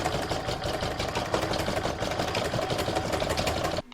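Home embroidery machine stitching an appliqué face area in flesh pink thread, a fast, rhythmic close-up needle chatter running steadily before stopping abruptly at the end.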